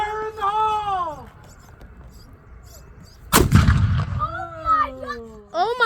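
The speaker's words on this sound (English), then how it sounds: "it's going to be a loud blast. Are you ready? Fire in the hole!" A historic cannon at Fort Mifflin fires a single loud, sudden blast that booms and rolls away, with people talking before and reacting afterward.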